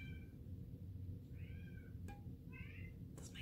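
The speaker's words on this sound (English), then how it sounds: "That's my cat." A pet cat meows a few times indoors, short rising-falling calls spaced apart, close and clear over a low steady background hum, with a brief click partway through.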